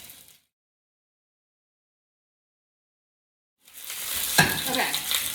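Vegetables and red pepper sizzling and frying in oil for a coconut curry, a bright hiss that starts after a long silence, with a stirring scrape partway in.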